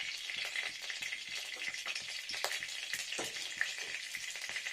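Mustard seeds fry in a little mustard oil in a pan, giving a steady, quiet sizzle dotted with regular small pops and crackles that keep going without a break.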